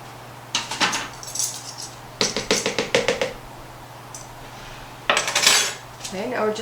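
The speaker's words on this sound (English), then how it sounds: "now we're just going to stir all that together" A utensil stirs eggplant dip ingredients with tomato paste in a dish, producing three close bursts of rapid metallic clinking and scraping separated by quiet pauses.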